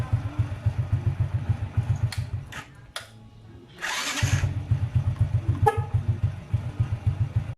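A Honda Wave 100 motorcycle's electric starter motor cranks and the engine catches, giving a steady close idle with pulsing throb, briefly interrupted, then resuming strongly without any talk over it.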